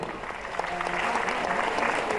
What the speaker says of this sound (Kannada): ಪ್ರೀತಿಯ ಚಪ್ಪಾಳೆ